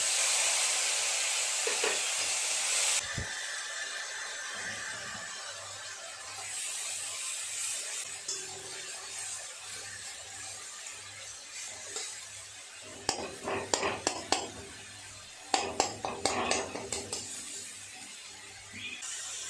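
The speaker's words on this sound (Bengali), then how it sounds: "পেঁয়াজ বাটা দিয়ে একটু নেড়ে চেড়ে নিয়েছি" Onion paste frying in hot spiced oil with dried chilli, bay leaf, cinnamon, cloves and cardamom: a steady sizzling hiss throughout, with scraping and clinking stir strokes clustered toward the end.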